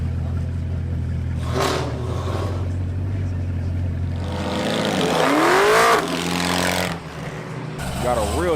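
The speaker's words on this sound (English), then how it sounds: "Got a real choppy ZR1 right here, y'all. Ooh, that thing is loud." A loud, choppy Corvette ZR1 exhaust rumbles close by at a car show, with revving swells and a rising engine whine over crowd noise and background talk.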